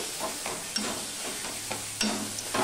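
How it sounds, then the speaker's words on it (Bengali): A spatula stirs beto shak greens, sweetened and salted, in a pan. A soft, steady sizzle runs under repeated scraping strokes, with a few sharper scrapes standing out. Nobody speaks. "মিষ্টি নুন দিয়ে আমি সম্পূর্ণটা ভালো করে আবার মিশিয়ে নিচ্ছি"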